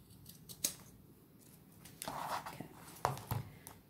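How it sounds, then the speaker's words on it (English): Scissors snipping through heavy denim fabric up close, a few sharp cuts spaced irregularly with soft rustling between them. "they're heavy fabric, sometimes hard to cut through, which is why you should have a sharp pair of scissors"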